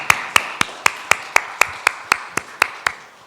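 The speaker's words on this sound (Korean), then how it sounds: "감사의 박수를 한번 하겠습니다" A church congregation gives a round of applause during a Sunday worship service, heard as a run of about a dozen evenly spaced, crisp claps, loud and close.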